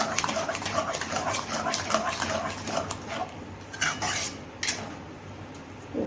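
A spoon scrapes and clanks against a pan while stirring a thick coconut ladoo mixture, irregular metallic knocks and scraping strokes close up, with no talking.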